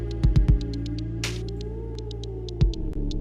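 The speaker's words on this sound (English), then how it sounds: "what you're hearing is a generative modular patch," Music from a generative modular synthesizer patch, with a steady low drone and slowly bending tone, short high electronic blips scattered throughout, and a few deep rhythmic thumps.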